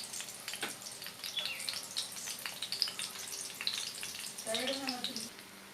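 Egg puffs frying in a small amount of oil, a steady fine sizzle and crackle close by, with soft clinks and a brief tonal squeak near the end.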